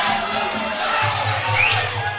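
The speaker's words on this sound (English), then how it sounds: "Crowd is going absolutely wild here." A crowd at a Muay Thai fight event cheers and shouts in a dense, continuous roar, with a steady low hum underneath.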